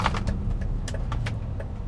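A 1999 Renault Mégane I Coupé 1.6 16V 110 engine hums steadily from inside the car with low road rumble, joined by a few light clicks and rattles.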